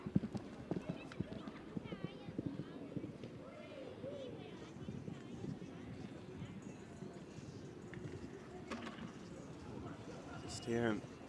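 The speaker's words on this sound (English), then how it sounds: "Just hear him rattling away at that horseware jump" A show jumper's horse cantering through a grand prix course with clip-clopping hooves, a faint rattle of a pole at a fence, and a commentator talking over the steady hoofbeats, with crowd ambience beneath.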